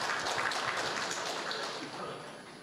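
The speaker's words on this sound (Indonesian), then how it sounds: "Boleh tepuk tangan yang meriah" An audience at a political speech by a party leader applauds in a dense, continuous wash of clapping that fades slightly toward the end, with voices mixed in.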